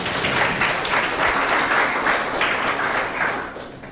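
Audience at a Christian retreat in Goa breaking into applause, a dense, sustained wash of many hands clapping at once, fairly loud and even throughout with no voices on top.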